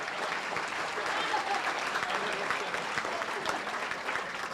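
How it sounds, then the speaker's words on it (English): Sustained audience applause fills a banquet room at an annual dinner, even and continuous from start to end, moderately loud with a crowd murmur underneath. "Let's give them a big round of applause"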